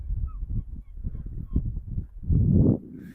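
A small bird honks in a goose-like way several times over low background rumble, with a louder, denser burst of honking near the end.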